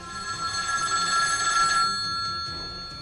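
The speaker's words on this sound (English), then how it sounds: "That's when the phone rang." A telephone bell rings steadily and fairly loudly in a quiet room, then stops partway through.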